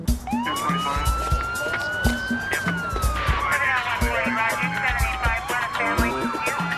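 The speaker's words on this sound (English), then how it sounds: "The LA County Sheriff's Department showed up in a parade of lights and sirens led by Captain Adams." LA County Sheriff's Department sirens wail and rise and fall together, loud and near, over a steady rhythmic beat.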